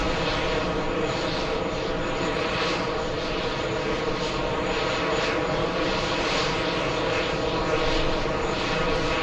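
Steady broadband roar of a Lufthansa airliner's engines at JFK airport, continuous and fairly loud throughout with no breaks and no voices.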